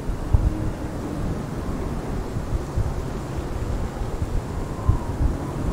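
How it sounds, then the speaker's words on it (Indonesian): A whirlwind in the Genshin Impact video game makes a steady, broad rushing wind with a low rumble and occasional gusty swells throughout, with no speech over it. "Ah, udah ada pusaran angin sini."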